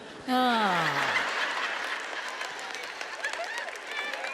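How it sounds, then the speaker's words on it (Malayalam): An audience at a sermon breaks into applause after a short rising-and-falling vocal sound, and the clapping goes on as a steady, fairly faint wash of noise. "എനിക്ക് കയ്യടി കിട്ടുമെന്നറിയാമായിരുന്നു"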